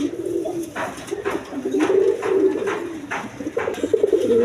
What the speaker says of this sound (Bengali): রেড কালারের মধ্যে কোয়ালিটি সম্পন্ন কবুতর